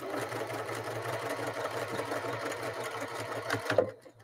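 A sewing machine runs steadily, stitching a zipper pouch up to the zipper tab, with a continuous even whir for several seconds before stopping abruptly near the end.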